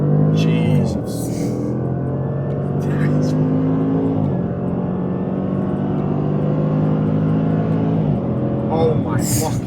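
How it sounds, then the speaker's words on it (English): A 2021 Range Rover Sport SVR Carbon Edition with its 575 bhp V8 accelerating hard, the engine note climbing through several gear changes with brief shift dips, loud and close from inside the cabin. "It's like when you put your foot down, it's like you can hear the engine"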